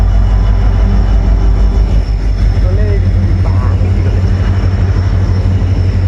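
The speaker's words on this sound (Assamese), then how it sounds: "থাক ৰেলগাড়ী যায়।" A train passes by, producing a loud, continuous low rumble that fills the whole stretch while people talk over it.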